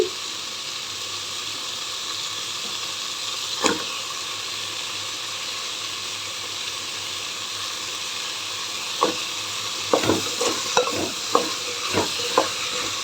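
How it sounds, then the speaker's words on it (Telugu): Dal (lentils) cooking for brinjal pappu sambar gives a steady hiss of steam, with soft scattered pops and bubbles growing more frequent toward the end, no voices. "పప్పు ఉడుకుతుంది"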